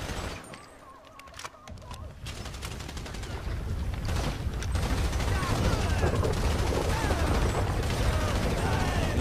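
Sustained gunfire bursts and rattling mechanisms in the video game GTA 5, first-person on PS4, dense and loud after a quieter opening, with a voice talking over it.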